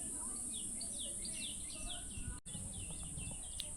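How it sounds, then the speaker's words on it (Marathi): Birds chirp and call in repeated short tweets from the wooded hills above a temple near Phulpada dam in Virar, set against a steady high insect drone and low outdoor rumble, with no talking. "पक्ष्यांचा नुसता आवाज येतो."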